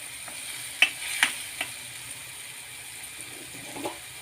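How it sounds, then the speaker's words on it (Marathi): Tempering oil in a pan for urad dal ghute is stirred, giving a faint, low sizzle broken by a few sharp spoon clicks and scrapes, with no talking. "आता इथे फोडणीला तेल सुटेपर्यंत परतवून घेऊ 1 ते 2 मिनिटं."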